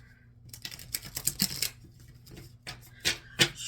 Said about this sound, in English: Here I am shuffling for the Libra collective.